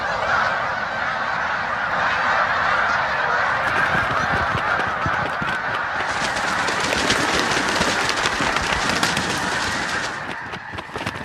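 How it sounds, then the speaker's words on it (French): A large flock of greater snow geese honking continuously, a dense overlapping chorus of loud calls filling the whole stretch without pause. "Les grandes oies des neiges."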